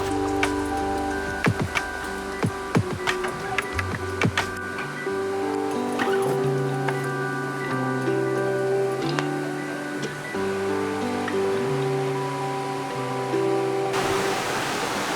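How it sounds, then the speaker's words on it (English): Continuous rushing creek water over granite rocks in Girraween National Park, a steady broadband wash, with a few sharp knocks and clicks early on. "I can hear that water"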